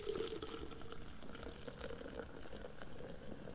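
Soft bubbling, trickling liquid poured by a ghost in the game Phasmophobia, faint and close, a brief burst of gurgling that settles into a quieter wet hiss.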